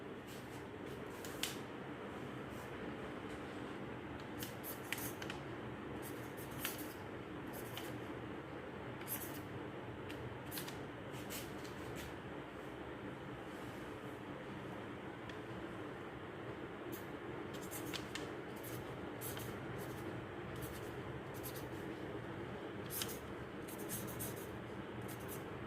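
Chalk or a marker scrapes words onto a board during a lesson, giving faint, intermittent scratchy strokes in short clusters over a steady low room hum, with no talking.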